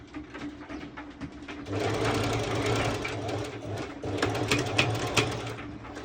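A sewing machine stitching swimsuit fabric close to the edge, running in short stop-and-start bursts of rapid mechanical rattling that stay up close, with no one speaking.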